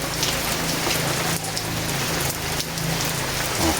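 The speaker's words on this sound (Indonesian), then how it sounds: "suasana pagi hari hujannya kayak ngene iki." Morning rain falls steadily, a dense, even hiss of drops striking surfaces nearby that stays constant throughout.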